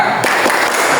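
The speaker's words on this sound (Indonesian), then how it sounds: "Tepuk semangat." A classroom of pupils performs the rhythmic 'tepuk semangat' clapping routine, a short dense burst of hand claps filling the room.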